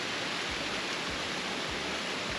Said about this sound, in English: you can just hear the water and how peaceful and magical it sounds